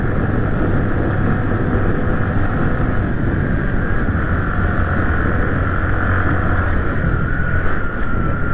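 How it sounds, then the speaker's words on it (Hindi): Steady, loud engine drone from a vehicle climbing a mountain forest road in Uttarakhand, continuous broadband rumble with wind buffeting the microphone throughout and no talking. "ये देखो इंजन की साउंड देखो कितनी पावरफुल है।"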